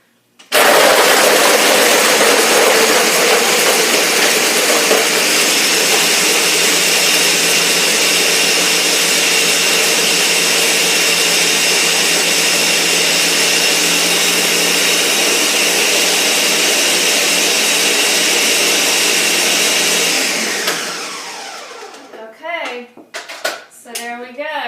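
A countertop blender runs loud and steady for about twenty seconds while mixing a thick Shakeology shake, then winds down to a stop and is followed by a few clattering handling sounds.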